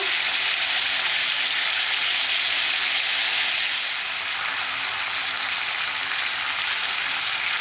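Malabar spinach with salt, turmeric and spices sizzles steadily in a hot pan, a dense continuous hiss that stays loud and close throughout, with no talking.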